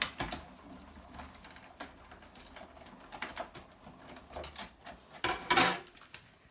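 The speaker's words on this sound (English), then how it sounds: "So we're just going to die cut the ears." Paper ears are cranked through a Big Shot die-cutting machine, giving a run of faint clicking, ratcheting and crunching noises with a louder burst of pressing near the end, all close by with no talking.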